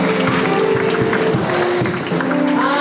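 Church congregation applauding and cheering during a Sunday worship service, a dense, steady wash of clapping with crowd voices and music tones underneath, continuous and loud throughout.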